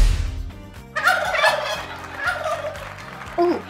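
A turkey gobbles loudly and close, a rapid warbling burst of throaty calls that runs across the clip and ends with a short higher call, with no talking.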